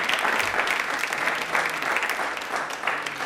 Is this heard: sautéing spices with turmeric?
no